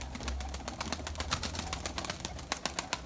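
Erzurum white pigeons coo and rustle in an enclosed loft, with wings flapping now and then over a low, steady background hum.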